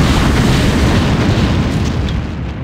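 Nuclear missile detonation in StarCraft: Brood War, a loud, dense, rumbling roar that holds steady for over two seconds before easing slightly at the end, with no talk.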